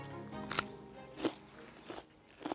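Someone bites into a crunchy autumn radish touched by frost and harvested fresh from the field, producing a few sharp crisp crunches spaced apart, quiet and close with no speech.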